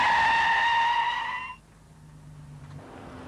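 A car brakes hard from 100 km/h in a full emergency stop, tires letting out a steady high squealing skid that cuts off after about a second and a half, leaving quieter road rumble behind.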